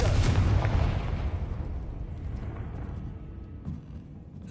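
A Confringo fire spell exploding in the game Hogwarts Legacy, a loud deep booming blast that rumbles and fades over several seconds, followed by a faint later thump.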